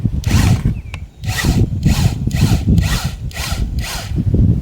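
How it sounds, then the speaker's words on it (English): A Black & Decker rotary cutter from around 1970 slices metal flashing for greenhouse apex trim: a loud, close, buzzing motor whine that pulses in repeated rough bursts as the blade bites, with a brief dip near the start and no talking. "This is made by Black & Decker, this cutter right here, rotary cutter, probably 1970."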